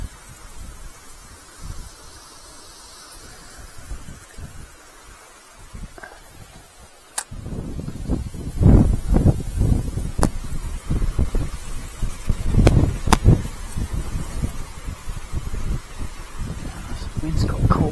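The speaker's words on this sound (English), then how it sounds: "Oh, this wind!" Strong wind blowing outdoors by a river backwater, gusting and buffeting the microphone with rough rumbling bursts that grow louder after the first few seconds, close and noisy.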